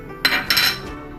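Cooked sabudana being stirred into coconut milk in a pot for sweet potato kheer, two quick metallic clinks of a spoon against the pot, close and brief, then quiet.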